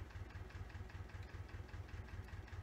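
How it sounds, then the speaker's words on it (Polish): A tractor engine in Farming Simulator 19 idles with a low, rhythmic chugging pulse, steady and moderately quiet under a faint background hiss. "mam nadzieję, że będziecie dobrze słyszeli dźwięki z traktora"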